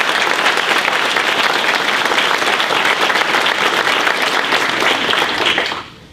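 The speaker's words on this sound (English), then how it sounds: "I think we all owe them a round of applause" An audience at an Army Corps of Engineers anniversary and time capsule ceremony gives a steady round of applause, dense and even, then stops abruptly near the end.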